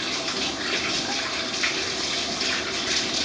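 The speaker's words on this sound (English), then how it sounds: "And I'm going to wash my hands." Running tap water pours steadily as hands are washed in a kitchen sink between cooking tasks, a continuous close gushing splash lasting throughout with no talk.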